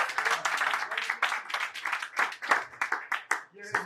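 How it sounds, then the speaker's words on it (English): Scattered clapping from a small group at an informal show, a few seconds of uneven hand claps mixed with talking and whoops that fade out near the end. "give a round of applause to this man right here"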